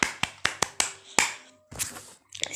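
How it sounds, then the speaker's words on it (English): A handful of separate sharp hand claps, spaced unevenly and then blurring into a short scatter, applauding a student's correct answer in a class 5 geography lesson on parallels and meridians. "A big round of applause for you."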